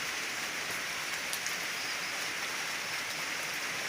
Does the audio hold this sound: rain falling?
yes